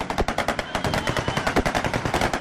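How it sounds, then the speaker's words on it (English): Rapid machine gun fire in eastern Ukraine at dawn, a long loud unbroken stream of closely spaced bursts heard near and alone. "The sound of bullets was deafening as they flew out in flaming arcs, lighting the dawn sky of Slavyansk"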